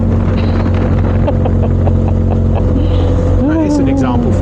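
A motorbike engine hums steadily while riding on a European road tour, with strong wind rush and a rising whine toward the end; no talk is heard over it.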